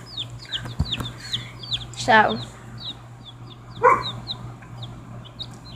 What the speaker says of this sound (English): That big chicken right there that's pecking at the grass